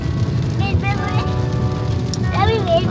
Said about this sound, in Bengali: আর প্রচন্ড বৃষ্টি হচ্ছে, বিদ্যুৎ চমকাচ্ছে